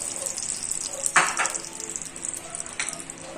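Garlic and onion sauté in oil already flavored by frying hotdogs, a steady close sizzle with a few brief stirring scrapes and splashes, no voices.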